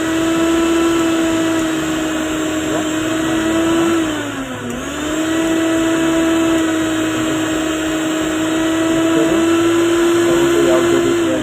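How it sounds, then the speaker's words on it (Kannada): An electric mixer grinder, freshly fitted with a replacement body, runs steadily at close range with a continuous motor whine and a brief dip in speed midway before returning to full pitch. "ಮೊದಲು ಹಳೆ ಮಿಕ್ಸರ್ ಯಾವುದೇ ರೀತಿಯ ಸೌಂಡ್ ಇತ್ತು ಅದೇ ಥರನೇ ಸೌಂಡ್ ಇದೆ."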